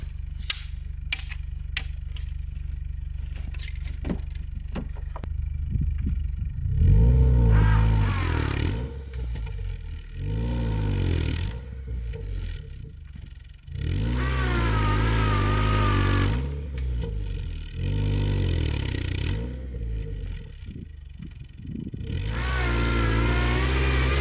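A second-generation Honda CR-V reversing off traction boards in winter snow gives a straight-cut reverse gear whine, with loud engine revving and rising, falling whine in repeated surges, close and with no voices.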